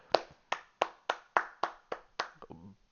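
Eight sharp hand claps at an even, slightly slowing pace, followed by a brief voice at the end.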